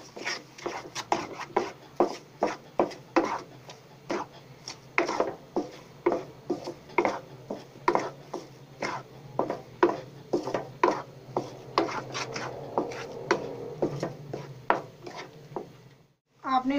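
A spatula scrapes and stirs gram flour halwa with sugar as it roasts in a pan. Rhythmic scraping strokes repeat steadily for many seconds while someone talks.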